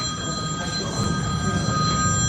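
A cell phone rings during a county political party convention meeting, a steady electronic tone held over the hall's background murmur, moderately loud throughout with no clear speech.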